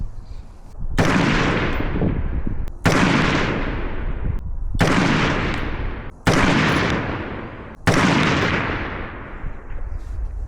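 Five suppressed rifle shots fired through an Otter Creek Labs Infinity suppressor, each a loud sharp report with a long fading tail, spaced a couple of seconds apart at a shooting range.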